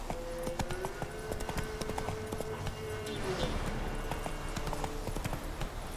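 Roach, a horse in The Witcher 3, clip-clops along at a steady walking rhythm, the hoofbeats clear and fairly close over a low game backdrop.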